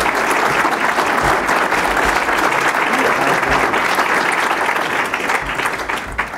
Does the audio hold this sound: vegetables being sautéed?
no